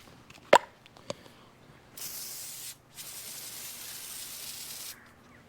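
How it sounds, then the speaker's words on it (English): Gunk original formula degreaser hisses in two long, steady sprays onto grimy motorcycle parts from a 1981 Honda CM200T Twinstar, after a couple of sharp knocks. "using some gunk degreaser, original formula, the OG style"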